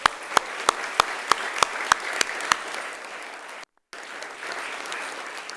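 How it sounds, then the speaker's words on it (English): Scattered single claps at a city council meeting ring out one by one in a steady rhythm, then break off and give way to a quieter room murmur. "How about a round of applause?"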